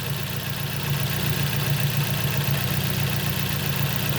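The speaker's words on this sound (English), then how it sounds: "Right, so the vehicle started." A 2006 Nissan Y11 AD with a QG15 engine, suffering low power and misfire under load, runs steadily just after starting, a constant close idle drone with a slight uneven pulse.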